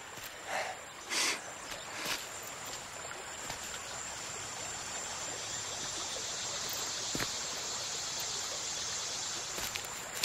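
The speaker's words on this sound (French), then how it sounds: "Une rivière." A steady, gentle rush of a flowing river fills the background, faint and continuous, with a few soft knocks and rustles.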